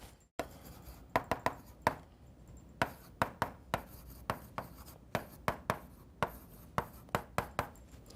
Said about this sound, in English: I'm going to go ahead and write them up here.